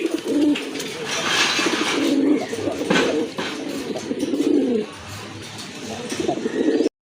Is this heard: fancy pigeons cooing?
yes